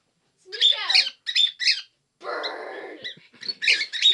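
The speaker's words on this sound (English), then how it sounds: "Bird." A pet bird close by lets out a run of harsh, scratchy squawks and chirps in short bursts separated by brief pauses, with one longer, rougher call in the middle.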